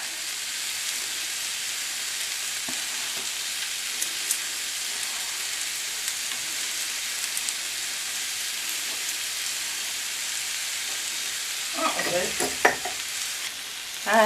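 Potatoes fry in a pan with a continuous hiss and sizzle, stirred now and then, with louder scraping clatter near the end and no talking.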